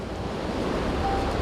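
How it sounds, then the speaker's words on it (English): Ocean surf crashing steadily on a shore, a continuous loud wash of breaking waves with wind noise across the microphone, no voices. "whenever Farshad Asghari hears the crashing of the waves"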